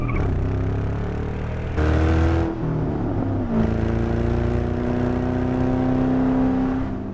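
A 2008 Ford Mustang Bullitt exhaust rumbles and revs several times, rising and falling in pitch with a deep throaty drone between bursts.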